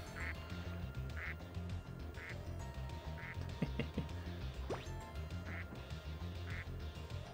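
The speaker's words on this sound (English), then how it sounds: "Let's return to the duck." Duck quacking in the Spyro 2 video game, a short nasal quack repeating at a steady, evenly spaced rhythm over a low game music bed, with a few brief chirpy squeaks in the middle.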